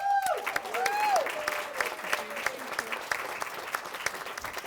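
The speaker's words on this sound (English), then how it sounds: "let's have a round of applause for all of our awards" An audience claps at an awards ceremony, with steady, close clapping that carries on evenly, while a voice is heard briefly over it at the start.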